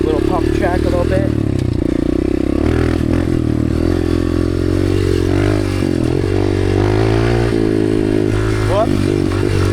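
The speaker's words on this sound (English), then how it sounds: "I'm just gonna rip this little pump track a little bit" A motorcycle rides a dirt pump track, its engine droning loud and continuous with rising and falling revs, scrapes and clatter, and a voice talking over it.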